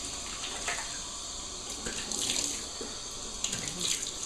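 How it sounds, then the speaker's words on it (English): Cold water runs steadily from a bathroom tap into a sink while a face is rinsed after a shave, with splashing bursts over a continuous stream. "I'm going to rinse off with cold water."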